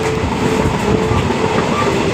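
A moving train in Karnataka during the monsoon clatters steadily on the rails, loud and close, with a continuous rumble and rhythmic clacking throughout.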